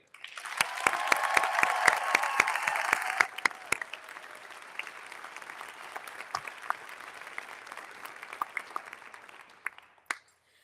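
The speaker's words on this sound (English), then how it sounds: "Can we get one more loud round of applause for all of our honorees today?" An audience gives a round of applause for honored educators at an awards ceremony in a performing arts center, starting loud and dense, then dropping suddenly to softer scattered clapping with sparse sharp claps near the end.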